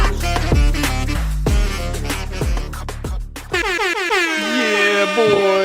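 A voice imitates a blaring air horn in several loud, repeated blasts, ending with a wavering, drawn-out vocal wail.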